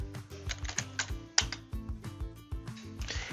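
Typing on a computer keyboard, a quick irregular run of crisp key clicks and taps, close and clear with no talk.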